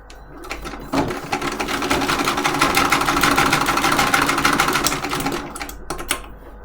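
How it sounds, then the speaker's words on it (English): A treadle sewing machine stitches a binding onto a quilted table topper, giving a steady, close, rhythmic whirring clatter that runs for several seconds with no talk. "having sewn a binding on a treadle sewing machine"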